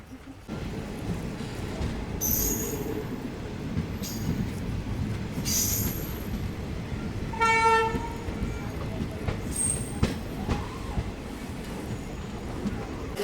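The Vasco Da Gama–Hyderabad weekly express rolls into Kurnool City railway station with a steady rumble of wheels, sharp brake squeals and a short high toot midway, heard from on board.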